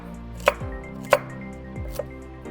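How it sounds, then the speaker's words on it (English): A knife dicing lined-up baby carrots on a cutting board: three sharp, close chops spaced roughly evenly apart, each a crisp thud with no talking. "when I chop things that are already small, I kind of line them up like this, and then I just come in for a dice"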